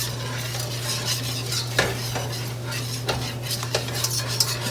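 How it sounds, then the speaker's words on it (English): Spoon stirring flour into a mixture in a bowl, a soft continuous scraping with occasional sharper clinks against the side, close and fairly quiet, no voices. "We're just going to start stirring this together."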